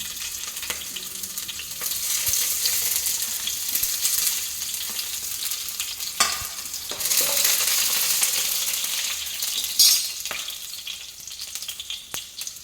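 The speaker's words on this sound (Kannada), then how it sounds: "ಎಣ್ಣೆ ಕಾದಿದೆ. ಉದ್ದಿನ ಕಾಳು ಹಾಕ್ತಾ ಇದ್ದಾರೆ, ಸಾಸಿವೆ ಹಾಕಿ ಒಟ್ಟಿಗೆ ಹಾಕಿ." Urad dal and mustard seeds go into hot oil for shavige bath and sizzle in a close, constant crackle, with scattered pops and a brief metallic clink of stirring partway through.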